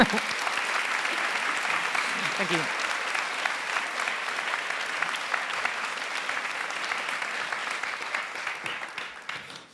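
An audience at the All About Women 2019 event applauds Carolin Emcke, steady dense clapping filling the room for nearly ten seconds and fading slightly toward the end, with a brief spoken thanks over it.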